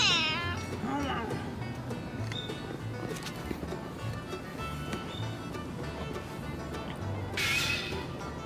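Several friendly cats in Okinawa meow close by, with a few separate high cries at the start, middle and end over a steady background murmur.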